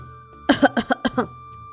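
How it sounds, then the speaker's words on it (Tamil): A woman coughs in a quick burst of about six harsh, rasping coughs, close and fairly loud, with a faint steady hum underneath. "அப்போ உள்ள இருந்து மாமியாரோட இருமல் சத்தம் அவளுக்கு கேட்டுச்சு"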